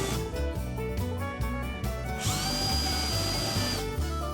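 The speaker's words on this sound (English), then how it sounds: "Now drill and countersink all those holes." A power drill whines at high speed for a second or two amid continuous workshop noise, its motor pitch rising as it bites into a 2x6 board to drill and countersink holes.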